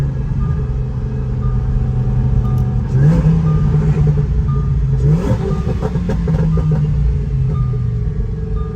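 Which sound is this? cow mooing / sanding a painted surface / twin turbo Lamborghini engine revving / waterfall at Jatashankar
twin turbo Lamborghini engine revving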